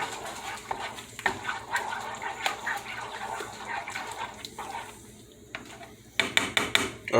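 Chili being stirred in a pot with a spoon, a steady run of close scraping, clinking and wet sloshing that pauses briefly and then returns as a burst of sharper knocks against the pot.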